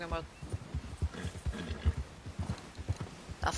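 Horse hooves clip-clopping in the video game Red Dead Redemption 2, a steady rhythmic trot of close, low thuds under someone talking.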